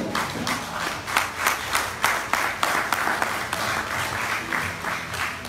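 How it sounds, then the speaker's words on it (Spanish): Church congregation at a Spanish-language prophecy teaching service clapping together in a strong, regular rhythm, loud repeated hand claps with a crowd murmur beneath, continuing steadily throughout. "Dale aplauso a Dios."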